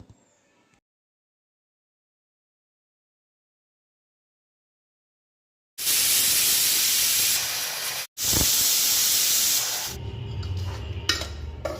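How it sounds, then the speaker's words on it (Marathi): Silence, then a loud, sharp hiss of escaping steam from a pressure cooker whistle bursts in, cuts off for an instant, and resumes before fading to a rougher hiss. "कुकरचं झाकण लावून कुकरला स्लो गॅसवर मीडियम गॅसवर 3 शिट्ट्या आणून घेणार आहोत"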